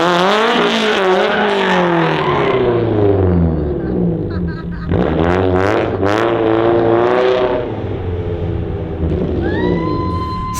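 A Toyota AE86 driven hard on a race track, its engine loud and close, revving up and down through gears with rising and falling pitch sweeps, easing off near the end.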